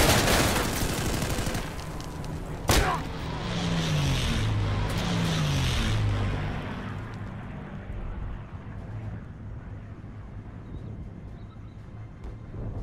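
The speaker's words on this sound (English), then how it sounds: "Gun run's coming." An air strike gun run in the World War II shooter Day of Infamy, heard as a sharp loud crack and then a long rolling roar of strafing fire that slowly fades to a distant rumble.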